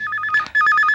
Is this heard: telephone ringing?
yes